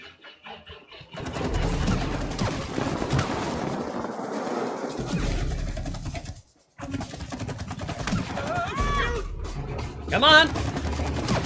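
Rapid gunfire from the co-op game It Takes Two rattles in sustained bursts, broken by a short silence, with players talking and exclaiming throughout.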